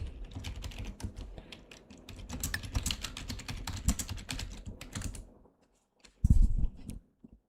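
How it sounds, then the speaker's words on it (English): Rapid, steady clatter of keys on a computer keyboard as someone types into a livestream chat during severe-weather coverage. It is close and continuous for about five seconds, then pauses before a brief loud thump. "I'm typing in chat if the stream is working"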